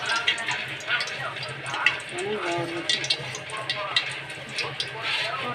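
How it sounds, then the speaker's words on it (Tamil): Semolina roasting in hot ghee in a pan, a low steady sizzle with light scraping stirs, heard close beneath a person talking. "நெய் நல்லா காஞ்சி பார்த்து ரவை போட்டு வறுக்கணும் நல்லா"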